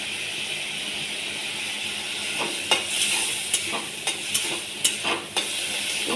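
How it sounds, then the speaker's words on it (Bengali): Shrimp fry in hot oil with a bright steady sizzle, joined in the second half by a series of sharp scraping clacks from a utensil stirring the pan, close and without talk. "এই চিংড়িটা ভাজলাম,"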